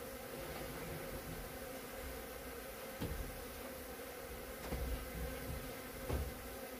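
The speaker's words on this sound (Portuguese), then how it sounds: "aqui já tem meio mundo de abelhas voando," Mandaçaia-da-caatinga stingless bees from a strong colony fly around their hive box, making a dense, steady buzzing drone with no break and a few louder passes near the listener.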